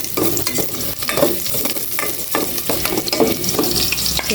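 Garlic sautéed in a pan sizzles loudly and continuously up close, with repeated scraping strokes of a stirring utensil in a loose rhythm.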